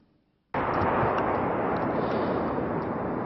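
A bombing explosion strikes Albanian territory about 200 metres from the Morina border post, bursting in suddenly after a quiet moment and continuing as a loud, sustained roar.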